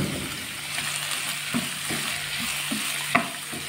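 Chopped banana stem fries in a pan with a steady, low sizzle. A spoon stirs it, making occasional soft scrapes and one sharper knock against the pan near the end.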